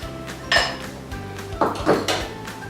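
A whole cinnamon stick going into a glass kombucha bottle, close, brief clinks and knocks of wood against glass, a few scattered taps over quiet background hum.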